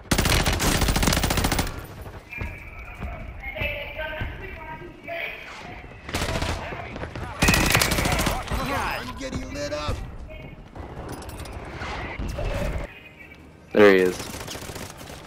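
Automatic weapon fire in a video game as a teammate is shot by friendly fire: loud, close bursts of rapid shots at the start and again midway, with people talking and other game noises running throughout.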